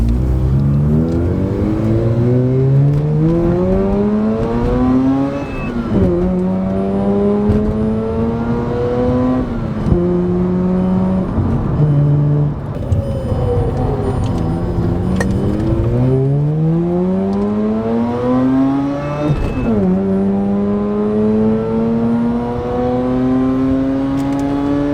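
Rotary engine of a Mazda RX-8 revving up and down repeatedly as the car drives, pitch rising through gears with steady loud road noise throughout; the engine has a coolant smoking issue.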